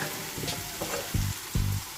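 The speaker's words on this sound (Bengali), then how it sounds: "চিংড়ি মাছগুলো দিয়ে, চিংড়ি মাছের সাথে এগুলোকে ভালো করে কষাবো" Prawns and softened tomato being fried together in a pan, a steady close sizzle with a couple of louder bursts as the food is stirred or turned, no voices.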